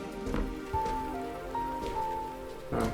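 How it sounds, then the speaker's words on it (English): Rain falling in a video game scene, a soft steady patter of drops on surfaces with a few louder splashes, quiet and continuous beneath faint background tones. "Oh, it's starting to rain, it looks like."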